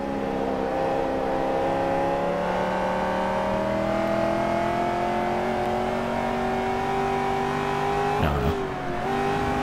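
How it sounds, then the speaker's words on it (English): A Corvette engine revs steadily in the racing game Forza Motorsport 3, a loud sustained drone with slowly climbing pitch, and a brief dip near the end like a quick gear change before the note picks back up. "it sounded like the engine sounds a little too quiet compared to my voice"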